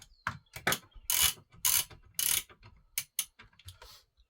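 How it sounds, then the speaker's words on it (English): A wrench works on a 68cc chainsaw, giving repeated ratcheting clicks and metallic turns in short bursts, close up and fairly loud, with no talking. "Boy, this wrench right here saves a lot of time."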